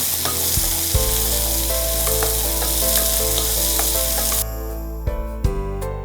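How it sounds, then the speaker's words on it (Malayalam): Mango pieces sizzle and fry steadily in a hot pan for a spicy mango chutney, a loud continuous crackle with a few clanks of stirring, and the sizzle drops noticeably near the end. "അപ്പോൾ ഈ മാങ്ങയുടെ കഷ്ണങ്ങൾ അതും കൂടി ചേർക്കാം. ജസ്റ്റ് ഒന്ന് വാടിയാൽ മതി."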